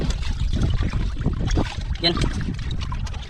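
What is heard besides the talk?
strong wind at sea, recorded from a fishing boat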